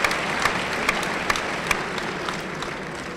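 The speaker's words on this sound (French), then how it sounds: "c'est Antoine qui applaudit très fort" Steady crowd applause at a padel final in Lyon, with sharp, louder claps from one person close to the microphone standing out in a regular rhythm above the general clapping.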